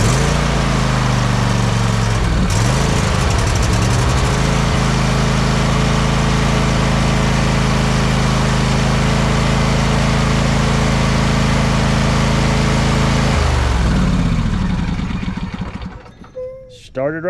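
A small engine on a ride-on mower with a freshly cleaned carburetor cranks, catches at once and settles into a loud, steady idle close by for several seconds before being shut off.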